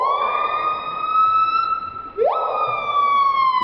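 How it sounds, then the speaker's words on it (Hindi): A papiha (hawk-cuckoo) call slowed down until it resembles a siren: a loud, sustained tone that rises and holds, breaks briefly, then sweeps upward again and holds, rich in harmonics. "नंबर 1 पीहा। इसकी आवाज को स्लो मोशन में करने पर ऐसा लगेगा जैसे कोई एम्बुलेंस या पुलिस की गाड़ी हो।"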